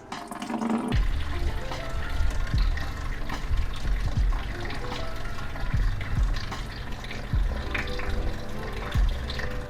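Coolant from a Jeep radiator, old flush fluid, drains in a steady splashing stream after a brief start, continuous and fairly close with occasional gurgles.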